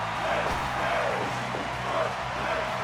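A wrestling arena crowd in the Def Jam video game roars steadily, a broad wash of cheering with no single voice standing out.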